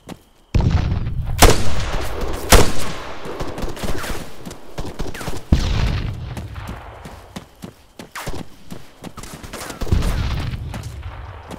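Gunfire during a night fight in Arma 3: loud, irregular shots and bursts mixed with booming reports and rumbling echoes, some close and some more distant, running through the whole stretch.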